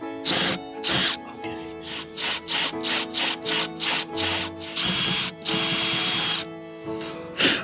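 Large drill bit boring through a plywood board in a string of short grinding bursts with brief pauses between them, close and fairly loud.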